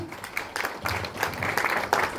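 An audience breaking into applause at a health talk, a brief burst of many hands clapping in uneven pulses, fairly close, lasting a couple of seconds.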